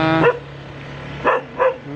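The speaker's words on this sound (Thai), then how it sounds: "เห่าหนูทำไม เห็นไหม เห่าหนูทำไมอ่ะ ทำไมถึงเห่าหนู" A dog out on a walk barks three times, close and loud: first a drawn-out, whining bark, then two short, sharp barks spaced apart, over a faint steady hum.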